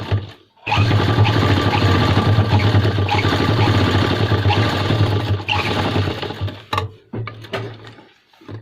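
A sewing machine stitches a wallet pocket into the inside of a pair of pants, its motor whirring loudly and steadily for about six seconds before slowing and stopping in short bursts, with no speech.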